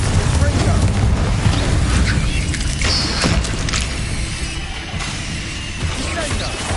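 Confringo blasting-spell explosions in Hogwarts Legacy, dense loud booms and crashing impacts in a continuous rumbling barrage, with a voice calling out over them.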